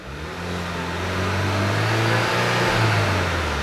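Car engine in a workshop revving up to nearly 4,000 rpm, a close, steady mid-pitched drone that swells over the first second then holds with slight wavering.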